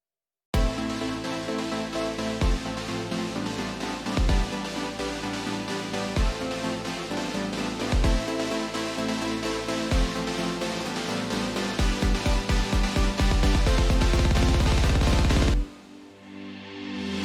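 EDM build-up made from free sounds: a loud synth line over varied kick patterns with a halftime feel, speeding into a rapid kick roll and rising riser effects before cutting off near the end.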